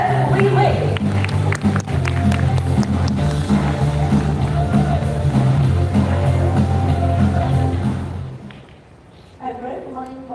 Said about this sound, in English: Ladies and gentlemen, a big round of applause and let's give it up for Ms. Ellen Lee Lane.